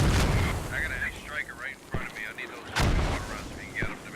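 Mortar fire and explosions in a competitive video game match: several heavy booming blasts at irregular intervals, loud and close, with a caster talking excitedly over them.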